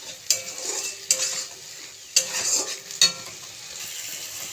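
A paste of poppy seeds, cashews and melon seeds sautés over a low flame, with a constant gentle sizzle and four sharp spatula scrapes against the pan at irregular intervals.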